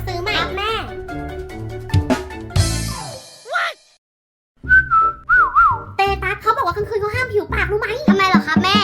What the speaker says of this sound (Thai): ถ้าผิวปากตอนกลางคืนน่ะจะเป็นการเรียกผี